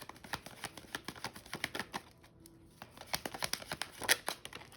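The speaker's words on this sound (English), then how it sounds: "let's shuffle one out" Angel oracle cards being shuffled by hand, a quick run of soft papery riffles and flicks, close and quiet, with a brief pause midway.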